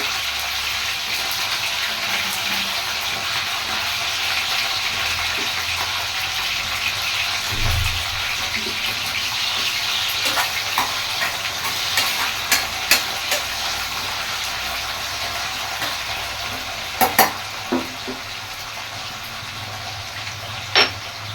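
Drumstick vegetable pieces frying and being stirred in a pan for sambar, a steady close sizzle with scattered light scraping and clinks from stirring.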